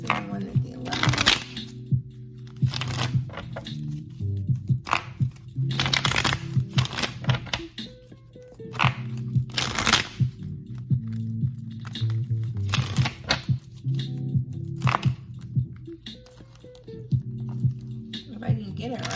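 Tarot cards are shuffled in repeated quick riffling bursts, close and crisp, separated by short pauses while someone talks softly over them.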